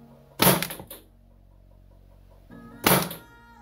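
Two sharp, loud bursts from an airsoft replica fired on a Sparklabs Wolf HPA setup, a couple of seconds apart, each with a brief ringing tail over a quiet room hum.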